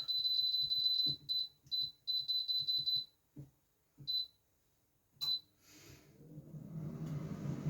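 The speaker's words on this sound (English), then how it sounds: "When it goes beep, means it's up to the temperature it was." An air fryer gives a string of high electronic beeps in quick bursts, then a few single beeps, followed by a soft whirring hum.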